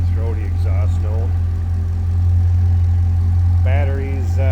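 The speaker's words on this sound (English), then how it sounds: "this is a nice, deep, throaty exhaust note" A supercharged LS3 V8 in a 2008 Chevrolet Corvette convertible with a C2 conversion idles with a deep, throaty exhaust, a steady low rumble running underneath someone talking throughout.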